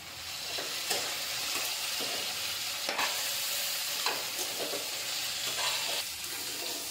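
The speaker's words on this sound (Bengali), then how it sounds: "তো মশলা ভাজা ভাজা হয়ে গেছে," Cumin and turmeric powder fry in a pan, a soft continuous sizzle broken by regular scraping stirs, close and fairly quiet, with no voices.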